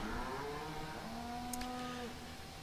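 Calves mooing in a farming video game, with long, low, overlapping moos drawn out over a steady background rumble and no talk.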